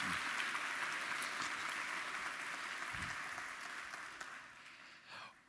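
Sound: church congregation applause

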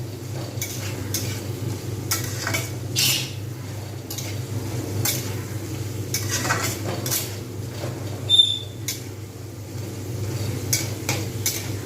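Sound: stirring bottle gourd curry with green chilli in a pan

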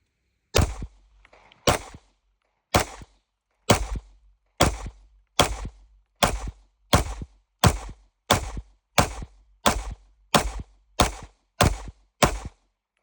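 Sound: 9mm pistol shots

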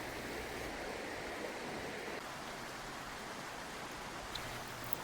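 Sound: mountain river flowing

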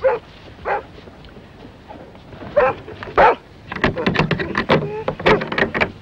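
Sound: dog barking

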